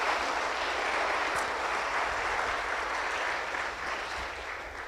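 A church congregation applauds during a sermon, producing dense, continuous clapping that fills the hall at an even level and tapers off slightly toward the end.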